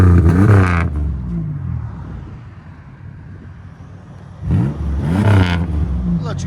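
Exhaust of a 2004 Chevy Impala with a 3800 V6 and a Netami resonator: two loud, close throttle revs rise and fall, separated by a quieter idling drone.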